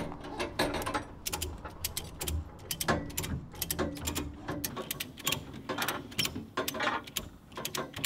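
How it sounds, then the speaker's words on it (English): Ratchet strap being tightened on a Prescott trailer, a rapid series of sharp metallic clicks in uneven bursts, close and distinct with no talk. "You tighten up that strap there"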